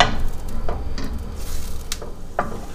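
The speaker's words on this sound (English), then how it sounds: "once that butter is all melted and it starts to foam and sizzle" Soft sizzling of garlic frying in foaming melted butter in a pan, with scattered stirring clicks and scrapes over the hiss.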